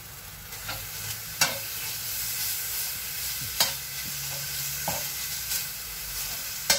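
Minced pork cooks in a pan with no oil, giving a steady close sizzle and hiss, broken by a few sharp scrapes from stirring and no voices.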